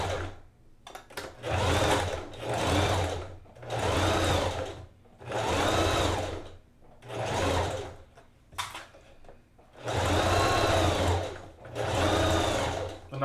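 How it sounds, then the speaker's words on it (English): A sewing machine fitted with a heavy duty needle and brown thread sews half-inch shoulder seams on a tapestry crewneck, running loud and close in about seven separate bursts of fast mechanical whirring, each roughly a second long, with short pauses between. "And I'm sewing this at 1/2 of an inch."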